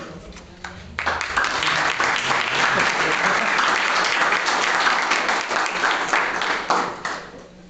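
Congregation at a Catholic Mass applauding after the Gospel reading, a dense burst of clapping that starts abruptly, holds strong for several seconds, then tapers off.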